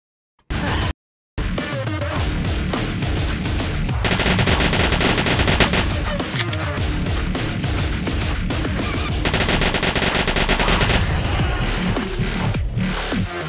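Rapid, sustained gunfire fills the video game Krampus Kill, dense automatic bursts rattling continuously after a short opening gap, loud and close with no talking.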